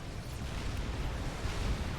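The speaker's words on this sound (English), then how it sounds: "And this is going to be one pretty explosion" A large explosion in the real-time strategy game Supreme Commander: Forged Alliance, heard as a dense, steady roar of rumbling blast noise that fills the whole two seconds with no talking.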